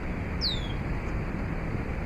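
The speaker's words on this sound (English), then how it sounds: "I love birdies when they sing." A single bird chirp, a quick downward whistle near the start, standing out briefly over steady low background noise.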